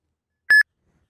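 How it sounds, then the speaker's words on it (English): A smartphone running the Uber driver app gives a single short electronic beep for an incoming trip request, a clean tonal bleep of about a tenth of a second against silence. "Your phone will start beeping, and the screen will flash."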